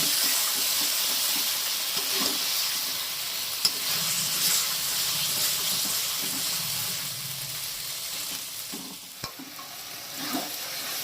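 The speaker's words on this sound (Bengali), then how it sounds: "দিয়ে ভালো করে চিকেনটা কষিয়ে নেব" Chicken pieces sautéed in a pan after a splash of water is added, giving a continuous bright sizzle and hiss with occasional scrapes and stirring knocks, close up and steady, with no voices.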